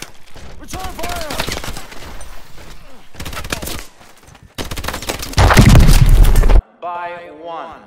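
Gunfire in the shooter Call of Duty Advanced Warfare, with bursts of rapid shots broken by short gaps, a loud heavy volley near the end, and voices talking in between.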